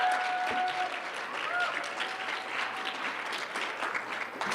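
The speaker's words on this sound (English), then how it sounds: "can we get another round of applause for our two poets right there?" Audience applause for two poets at a slam poetry night, a sustained crowd clapping that runs the whole time with a few whistles mixed in.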